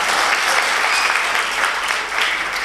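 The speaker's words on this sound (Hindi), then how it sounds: "एक बार मेरे सम्मान में भी तालियां बजाइए" Sustained applause from a comedy show audience in India, steady dense clapping for a few seconds with no voices on top.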